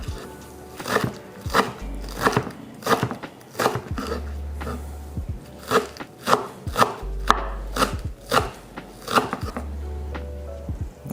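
Green onion stems chopped with a knife on a cutting board: quick crisp chops in rhythmic bursts, pausing briefly between runs, close and clear with no speech.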